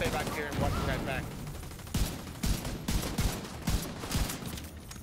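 Shotgun blasts in The Division 2, a series of loud, sharp booming shots spaced irregularly, with a voice talking at the start over game background noise.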